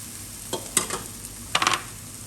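Bamboo shoots being mixed by hand with chili paste and seasoning for a Thai chicken and bamboo shoot dish, giving a few soft, moist squelching and rustling bursts close by, with quiet pauses between them.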